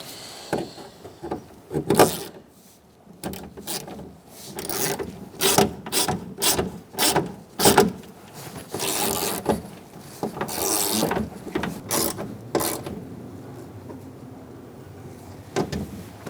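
Hand ratchet snugging a bolt on a door lock actuator of a 2002-2006 Honda CR-V, heard as repeated close clicking strokes in uneven bursts, with no talking.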